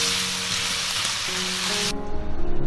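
Pork tails stir-fried with sugar in a wok, a dense close sizzle that drops abruptly partway through, followed by softer bubbling and crackling.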